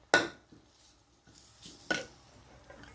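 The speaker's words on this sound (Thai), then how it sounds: "เรามาผัดก่อน ผัดให้หอมๆก่อนค่ะ" Galangal, lemongrass and garlic being stir-fried in a pan give sharp metallic clanks of a utensil against the pan, a few scattered knocks and light scraping in an otherwise quiet kitchen.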